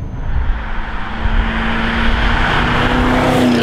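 An MG ZT 400, a British Rover-era saloon fitted with a Mustang V8, accelerates hard with a loud, steady engine roar that builds and rises in pitch, close by and with no one speaking.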